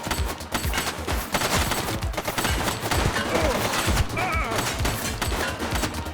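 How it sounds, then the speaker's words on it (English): Dense, continuous gunfire from several weapons in the police video game The Precinct, with rapid bursts of shots overlapping into a steady barrage for several seconds. "Stay down when the guns are firing"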